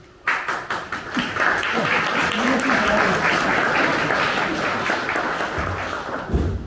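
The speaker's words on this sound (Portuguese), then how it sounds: "Não fiz nada, já me estão a bater palmas." Audience at a public book presentation in Portugal bursts into applause, a sudden loud, sustained round of clapping that tapers off after several seconds.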